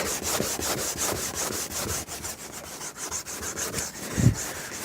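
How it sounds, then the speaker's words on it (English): Steady, rhythmic rasping of sandpaper rubbed back and forth on an oxidized plastic car headlight lens, close and continuous, with a brief thump near the end. "And you keep sanding it until no more of this oxidation comes off with it."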